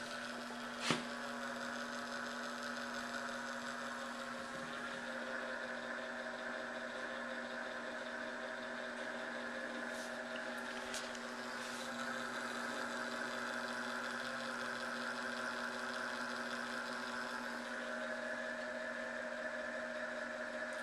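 A small Merkle Korff gear motor on a bench power supply at low voltage hums steadily for twenty seconds as it slowly winds a string to lift a weight, a faint, even drone with a couple of brief clicks and no talking.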